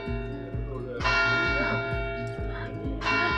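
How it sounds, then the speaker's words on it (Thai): A bell rings out twice with a lingering metallic tone, over a steady low rhythmic thumping and people talking. "มันมีเสียงะระฆังอะค่ะ"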